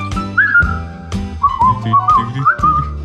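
A person whistles a bouncy tune in short, lively phrases, close and clear, with no talking.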